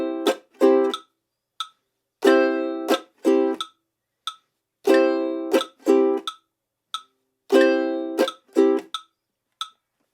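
Strummed ukulele chords alternate with short, dry percussive chucks from palm-muted chunking, repeating a steady down-chunk-up rhythm, close and clear with no voice.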